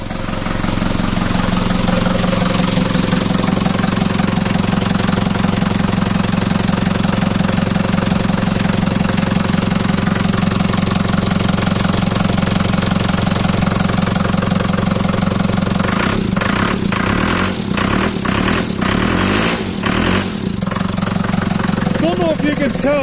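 A Ford Transit van engine idles with a loud, steady low rumble and rattling chatter, close and continuous throughout, while someone talks over it.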